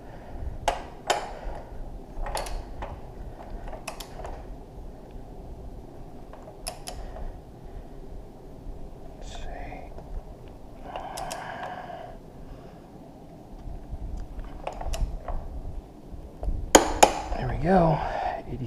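Torque wrench tightening the bolts on raised Helibars handlebars of a 2015-2018 Yamaha R1, heard as scattered metallic clicks and creaks over a low background hum, with a sharper, louder click near the end.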